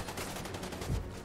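Gunfire in The Division 2: Warlords of New York, a short run of rapid shots, faint and somewhat distant, with one heavier thump near the end.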